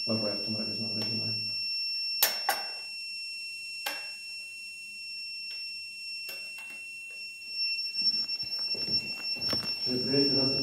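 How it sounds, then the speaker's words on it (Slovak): A fire alarm control panel in service (inspection) mode gives off a steady, piercing high-pitched tone throughout, broken by a few sharp clicks, with people talking nearby at the start and again at the end. "hlasík nám svieti, ústredňa píska, ale nerobí nič"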